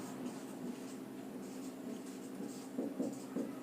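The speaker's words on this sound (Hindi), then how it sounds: "ऐसे लिखेंगे इसको" A teacher writes on a board in a quiet room, with soft, steady scratching strokes and a few sharper taps.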